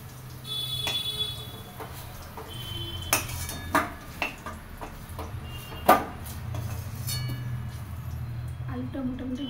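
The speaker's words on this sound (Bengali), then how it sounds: "একে একে আমি আলুটা তুলে নিচ্ছি।" Fried potatoes lifted one by one from a pan, with several sharp metallic utensil clinks and pings over a steady kitchen hum.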